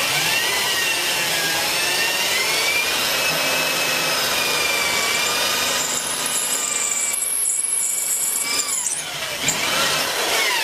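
A hand tool bores a hole in wood while a traditional Chinese edge-cut plane is being made, giving a continuous grinding, scraping whine that holds steady, with a brief dip near the end.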